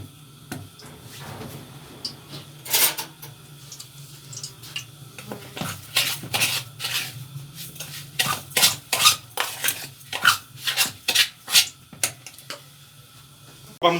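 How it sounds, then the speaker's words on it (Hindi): Semolina and water being stirred in a bowl with a metal spoon for halwa, a series of sharp clinks and scrapes that speed into a quick rhythmic run, close and fairly loud. "और इसे अच्छे से मिक्स कर लेंगे।"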